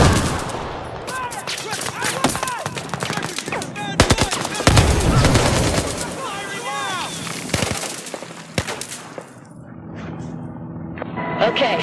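Rapid bursts of machine gun fire in Battlefield 4, loud close rattling volleys with scattered gunshots and explosions, voices shouting between and over the firing.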